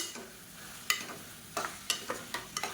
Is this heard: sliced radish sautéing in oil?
yes